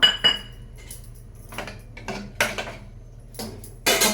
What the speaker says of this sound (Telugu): కుక్కర్ మూత పెట్టుకుందాం